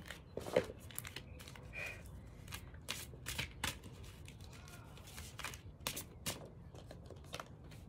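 Fairy oracle cards are shuffled by hand in quick, papery bursts of riffling and flicking, close and fairly soft, with brief pauses between runs and no talking.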